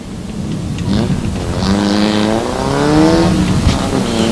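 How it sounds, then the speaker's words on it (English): Race cars rev past on a short oval track after a crash, a loud engine drone that rises and falls in pitch as the cars sweep by, with faint commentary underneath. "More cars coming through."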